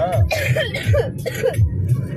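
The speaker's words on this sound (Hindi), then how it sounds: "खांसी हो रही।" Someone coughs repeatedly in quick, rough bursts outdoors on a cold, foggy winter night near a Radha Krishna temple, close to the microphone.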